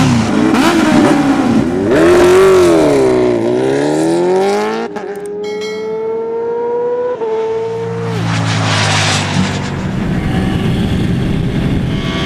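KTM Duke 200 motorcycle engine revving hard, loud rising and falling howls through several gear changes, dipping briefly mid-way before climbing again, close and continuous with no talk.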